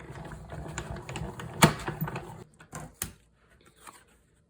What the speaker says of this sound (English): Then we'll add another 3 on top and run that through the machine to die cut.